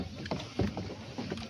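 A boat on Pawana lake heads back to shore, with a brief run of soft splashing and knocking water sounds close by, fairly quiet and unaccompanied by talk.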